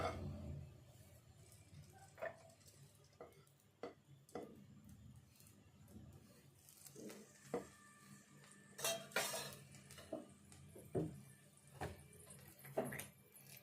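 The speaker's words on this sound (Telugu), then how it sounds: "ఇప్పుడు స్టవ్ పైన ఒక ప్యాన్ పెట్టుకొని కొంచెం నెయ్యి వేసుకుందాం, ఒక చెంచా." A pan set down on a stove and a spoon of ghee added, with scattered faint metallic clinks and scrapes of cookware and a spoon, quiet and irregular.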